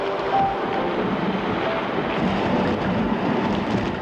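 Hurricane-force storm of a Category 5 hurricane making landfall in South Florida, with steady roaring wind, rushing rain and low rumbling, loud and unbroken throughout with no voices.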